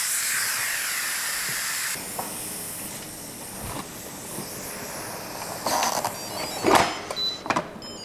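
An Instant Pot pressure cooker releasing its pressure gives a steady broad hiss of steam for several seconds. A few louder spurts and bursts come near the end.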